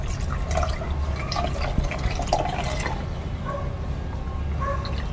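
A litre of water is poured into a container holding aloe vera leaf pulp, a close, steady splashing trickle with gurgles and drips that continues throughout.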